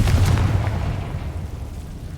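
A Confringo blasting spell explodes in the Hogwarts Legacy video game, a dense, rumbling boom that starts loud and slowly decays over a couple of seconds, with no voices.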